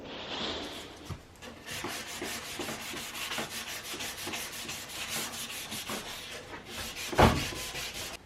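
Sandpaper rubs steadily back and forth across a wooden trim board for a bookcase, a continuous close scratchy rasp with a faint regular stroke rhythm and one sharp knock near the end.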